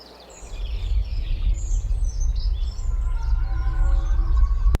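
AI-generated nature ambience of birds chirping and calling over a low, steady rumbling bed that swells in loudness, with bright tonal bird notes scattered across the clip and no voices.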